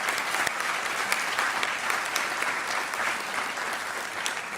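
Applause at a doctoral hooding ceremony, honouring graduate student association representatives as they stand: a dense, steady crowd clapping that holds at an even level throughout, with no voices over it.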